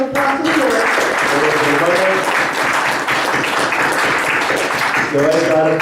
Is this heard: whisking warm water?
no